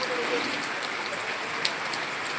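Rain falls steadily, a soft, even hiss of drops hitting surfaces with a few sharper nearby drips, continuous and moderately close.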